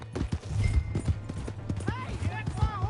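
Horse hooves clip-clopping at a brisk steady pace in the video game Red Dead Redemption II, close and clear, with voices and other ambient game sounds around it.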